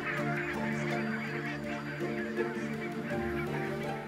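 A large flock of barnacle geese honks continuously and densely as they set off toward Arctic breeding grounds. The many overlapping calls are moderately loud.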